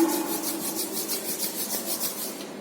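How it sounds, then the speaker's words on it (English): Palms rubbing together briskly in a steady back-and-forth rhythm, a soft close rasp repeating about every quarter second with no talking, as students warm their hands during a meditation at the end of a class. "Rub your hands"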